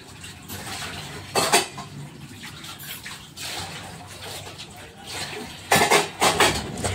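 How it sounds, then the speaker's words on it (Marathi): Dishes and utensils being washed and scrubbed, heard as clattering pots, clinking metal and splashing water, with louder bursts of banging at intervals and faint talking in the background. "पटापट पटापट सर्व भांडे धुवून घासून घेतली"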